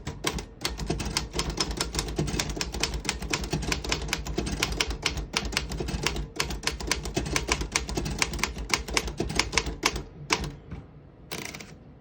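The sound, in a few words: 1940 Royal KMM vintage desktop typewriter typing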